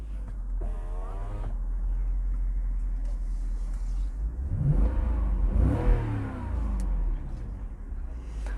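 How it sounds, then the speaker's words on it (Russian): Toyota Soarer convertible with a 4.3-litre V8 revs up from a steady idle, swelling into a loud, rising engine roar before settling back, heard close by with no speech over it. "По-моему, это один из самых таких приятных звуков у моторов на Тойоте"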